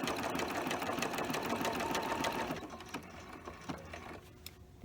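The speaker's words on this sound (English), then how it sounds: "I'm going to stitch down the center, which will just give the illusion of a vein" A sewing machine stitches down the center of an appliqué holly leaf on a Christmas quilt, a fast continuous mechanical whirr that slows into a few separate needle thumps before stopping near the end.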